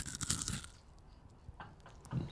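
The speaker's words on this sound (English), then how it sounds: "Now that's a crunch." Someone bites into a spicy chilli and lime cricket snack, giving a sharp crisp crunch near the start, then quieter chewing and a few more faint crunches close to the mouth.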